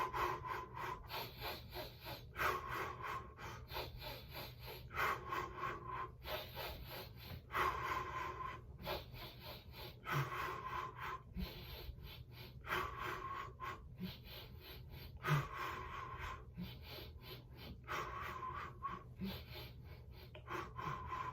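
Steady rhythmic breathing in and out during a Pilates core exercise, each breath a soft rasping rush repeating roughly every two and a half seconds, close and quiet with faint background noise.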